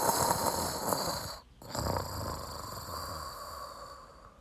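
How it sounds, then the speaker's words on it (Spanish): A dog snoring in a children's story, heard as a loud, continuous rasping snore that breaks off briefly and then rumbles on steadily with no talk over it. "¿Qué hacemos para que Perro deje de roncar?"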